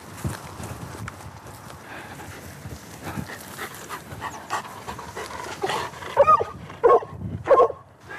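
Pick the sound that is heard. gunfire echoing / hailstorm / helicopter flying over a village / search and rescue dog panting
search and rescue dog panting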